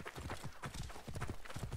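Horse hooves clip-clop at a quick galloping rhythm in Assassin's Creed Origins, the video game, with a steady, fairly soft run of beats that carries on throughout.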